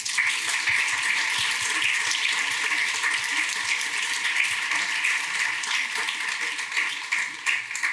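Audience applauding Orthodox priests at the close of a podcast live event, a steady, dense patter of many hands clapping throughout, fairly loud and without talk.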